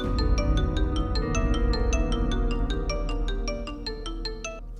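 A mobile phone ringtone chimes in a regular, rapid repeating melodic pattern, clear and steady over a low background hum, continuing throughout.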